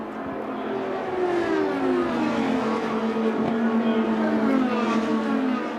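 IndyCar race cars scream past on the final lap of the Indianapolis 500, high engine tones sweeping and shifting in pitch as they pass, loud and sustained over a faint crowd roar.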